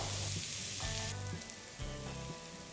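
Onions frying in oil, cooked until golden as the base for egg biryani: a dense, loud sizzle fills the whole clip, heard close up with no voices.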